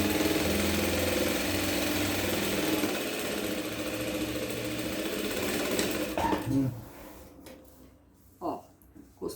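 A sewing machine stitches around the armhole of a handmade festa junina vest, running as a steady mid-pitched whir for several seconds before stopping, followed by a few soft handling sounds.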